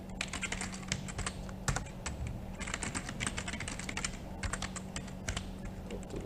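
Fingers type quickly on a computer keyboard while entering Cisco Packet Tracer switch commands, crisp clustered key clicks in short bursts with brief pauses between, close and moderately quiet against a faint steady hum.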